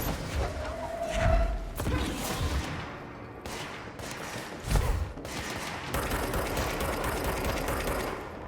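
Gunfire from the video game Control, a few ragged bursts of shots with loud thumps near 1.5 and 4.7 seconds over a steady noisy game backdrop, with no talking.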